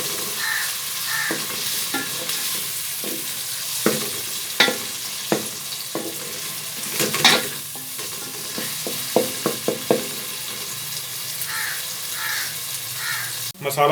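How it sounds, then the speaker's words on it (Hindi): Ginger garlic paste sizzles and fries in a pan for kadhi pakora, with a spoon scraping and stirring in irregular clatters over a steady hiss. "और अब ऐड करेंगे अदरक लहसुन का पेस्ट और इसे अच्छे से मिक्स करेंगे"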